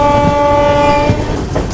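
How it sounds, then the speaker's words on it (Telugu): Sabari Express passenger train entering Guntur Junction from Vijayawada, a loud steady horn blast sounding over the rumble and clatter of rolling wagons, close by, with no talk. "విజయవాడ నుంచి గుంటూరు జంక్షన్లోకి ఎంట్రీ ఇస్తుంది అనమాట ఆ ట్రైన్"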